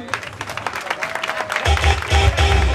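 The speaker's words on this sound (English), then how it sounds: "Can we please give a round of applause to lighten up the mood" At a ballroom awards event, a crowd breaks into loud applause with cheers that swells midway and carries on strongly, while a voice talks through the first part.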